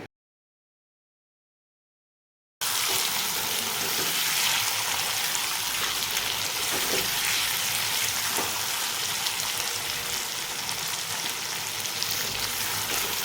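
After a couple of seconds of silence, a dense, even sizzle of eel frying in a pan fills the rest, steady and close with no voices.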